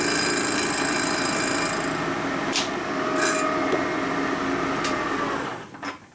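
Metal cutter machining the exhaust port hole of a 1977 74ci Shovelhead cylinder head during a welding repair: a loud continuous grinding, rasping whir with a few sharp scraping accents, winding down near the end.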